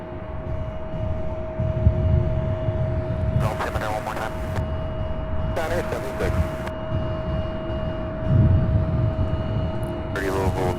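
A Delta Boeing 737 jet departing, a steady broad engine roar that holds throughout, with short bursts of a voice breaking in over it now and then.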